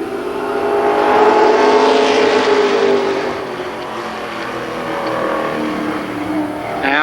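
Race cars at Columbus Motor Speedway roar down the backstretch, a loud continuous engine drone that swells, dips, and rises again as the pack passes, with no voices.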